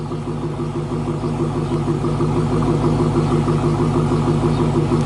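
Steady close-range idle from a 2016 Dodge Challenger SRT Hellcat engine, a deep, loud, pulsing rumble that stays constant, with no voices.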